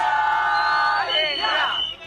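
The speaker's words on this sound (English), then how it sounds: "these are the fans full of emotions, and they are cheering for India." A street crowd of India fans on Marine Drive, Mumbai, cheering and yelling together in a loud, sustained roar with rising chant-like shouts, close and dense.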